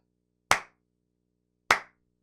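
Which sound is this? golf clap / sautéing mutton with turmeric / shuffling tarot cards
golf clap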